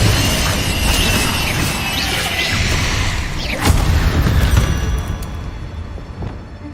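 Explosive spell blasts in Hogwarts Legacy gameplay, a continuous rumbling barrage of booms and crashes with a sharp louder burst partway through, loud and close, then tapering off.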